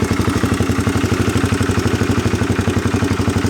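A Honda CBR150 carbureted motorcycle engine idles steadily close by, with an even, rapid pulsing beat and light mechanical clatter, heard alone with no voices.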